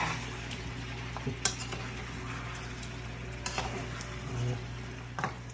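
Kare-kare oxtail and beef shanks sautéing in a pot, a steady low sizzle under scattered clinks and scrapes of a spoon stirring against the metal.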